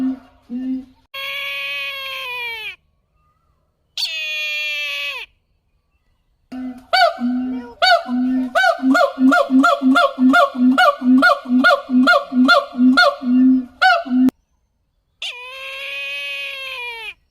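Gibbons and a white-bellied sea eagle call out in Thai forest near a wildlife rescue centre, loud and close: long rising whooping phrases alternate with a fast rhythmic run of repeated hoots, with cicadas droning faintly between.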